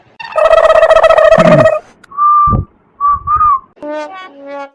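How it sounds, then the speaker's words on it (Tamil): A person whistles loudly and close by to call someone, starting with a long warbling trill, then several short rising and falling whistled notes with brief gaps between them. "என்ன விசில் அடிச்சு கூப்பிடுற"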